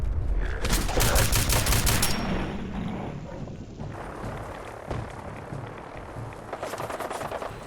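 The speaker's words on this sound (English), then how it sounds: "Why are you shooting at me?" Bursts of automatic gunfire from enemy gunners in the Fallout 4 video game, rapid rattling volleys loud at first, then thinning into scattered shots and a final clattering burst, with no talk.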